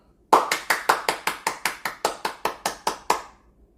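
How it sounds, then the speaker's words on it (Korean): A group of children in a church service claps in unison, fourteen sharp, evenly spaced claps over about three seconds, loud and close. "박수!"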